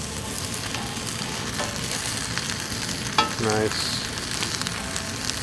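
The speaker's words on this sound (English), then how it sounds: "I threw a couple of slices of injection molded ham on here" Slices of ham sizzling on a grill beside an omelet with onions, a constant close frying hiss broken by a brief clatter of a utensil partway through; someone speaks a single word.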